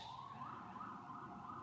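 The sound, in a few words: ambulance siren in New York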